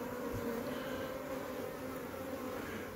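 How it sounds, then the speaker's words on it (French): Honey bees buzz in a dense, continuous hum close to the hive, where many bees lie on the ground carrying pollen, steady and fairly loud for three seconds with no voices. "J'ai beaucoup d'abeilles au sol avec du pollen."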